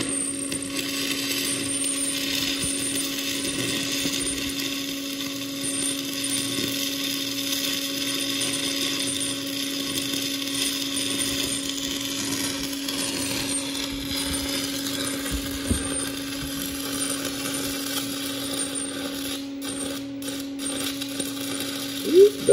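Stick (SMAW) welding on a T-joint fillet weld runs hot enough to gouge, giving a continuous crackling, sizzling hiss with a steady electrical hum beneath and a few sharp pops near the end.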